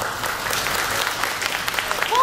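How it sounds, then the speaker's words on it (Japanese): A large audience at the Oita Yumeiro music festival bursts into loud, sustained applause for a female R&B soul trio, a dense steady wash of clapping that swells slightly at the end. "もうすでに大きな拍手が湧き上がってますが"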